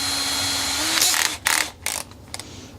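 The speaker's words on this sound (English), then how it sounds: "I'm just going to use the drill" A power drill drives the truss rod cover screws on a vintage 1989 Peavey Tracer guitar, giving short close whirring bursts over a steady hum, with a few brief stops and starts.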